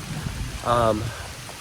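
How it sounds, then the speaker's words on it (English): Rain falls on the Appalachian Trail as a thunderstorm moves in at the end of a 22-mile slack-pack hiking day, a steady, soft hiss throughout with a brief voice-like sound near the middle. "we get some rain"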